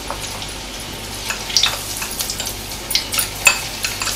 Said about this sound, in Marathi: त्याच्यात घालूया मीठ आणि परत ढवळून घेऊया